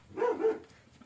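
A dog gives a single short bark or yelp, close and moderately loud, standing alone for about a second.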